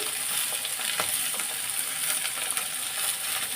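Mixed vegetables, including eggplant, beans, pumpkin, carrot and potato, fry in a pan for a vegetable greens dish, giving a steady dense sizzle with small crackles and pops throughout.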